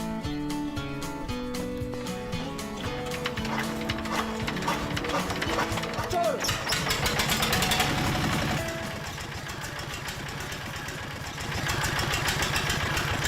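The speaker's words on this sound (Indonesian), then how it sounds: "Di Lio ini pembuatan batu bata menggunakan sistem press dengan mesin berbahan bakar solar." A diesel-fuelled brick press machine making bricks works with a steady, rhythmic mechanical clatter, close and continuous, with music-like tones layered over it throughout.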